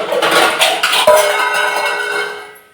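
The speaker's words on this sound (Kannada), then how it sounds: "ಅದ್ರ ಮೇಲೆ ಒಂದು ಮುಚ್ಚಳ ಮುಚ್ಚಿಬಿಡ್ತೀನಿ" A metal lid is set on a cooking pot of vegetable soup after the gas is switched off, one clear clank followed by a ringing tone that fades out, with faint kitchen clatter just before.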